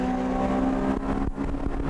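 Honda Civic EG6 race cars on a track, a loud, sustained engine roar with a steady high tone and brief mechanical clicks partway through, close by, no voices.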